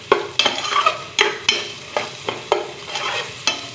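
Food, including tilapia, frying in a pan for a Filipino dish, with a steady sizzle broken by regular scraping stirs of a utensil every half second or so.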